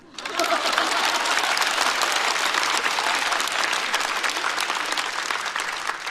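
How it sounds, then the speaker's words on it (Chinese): A stand-up comedy show audience breaks into loud, sustained applause, a dense crackle of clapping that holds steady for several seconds. "括号鼓掌吧"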